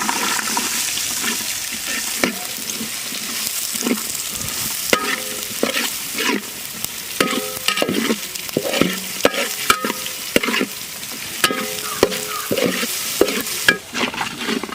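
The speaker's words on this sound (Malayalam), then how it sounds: "ചെറിയ ഉള്ളി ഇടാം." Small onions dropped into hot oil in a pan while making crab roast, a continuous sizzling fry with repeated sharp scraping and stirring clicks of a spoon against the pan.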